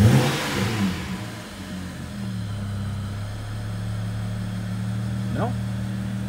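A BMW E90 335i with the N55 engine idles roughly and unevenly, a steady low droning hum that holds close by with a slightly rough edge, while a brief voice comes at the very start.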